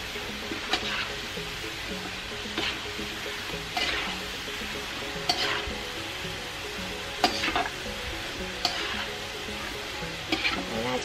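Tofu fries sizzling steadily in hot oil, with a scrape or clatter of stirring every second or two over the constant frying hiss.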